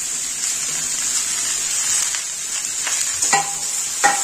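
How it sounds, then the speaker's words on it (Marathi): Mixed vegetables and tomato stirred in a hot pan for chili paneer: a constant close sizzle with a few sharp scrapes and knocks of the spoon near the end. "हे सगळ्या भाज्या मिक्स करून घ्यायच्या आपल्याला"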